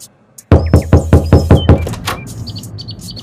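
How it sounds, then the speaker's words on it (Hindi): A hand knocks on a door in a dramatized story: a quick run of about six firm, evenly spaced knocks, loud and close, with faint chirping tones above and a soft thud afterward. "दोबारा दरवाजा खटखटाता हूँ।"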